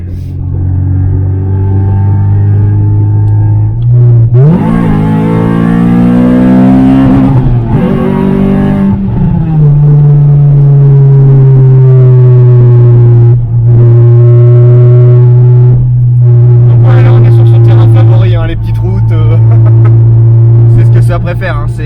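A Honda Civic EK4's B16 engine revs up sharply, then settles into a steady loud drone, with someone talking over it.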